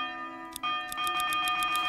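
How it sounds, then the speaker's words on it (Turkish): A church bell in the medieval city-building game Manor Lords rings in a steady run of bright, clear strikes over a sustained tonal hum. Each strike sounds close and fairly loud, evenly spaced, with no voices. "Kilise çanı sesi mi?"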